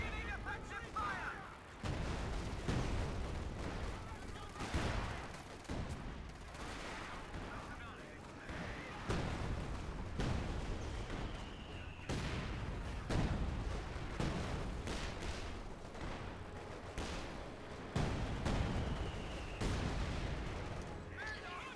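Repeated artillery and gunfire in a Company of Heroes 2 battle with mortars and AT guns, booming shots and crackling bursts spread over the scene, with game voices heard at times.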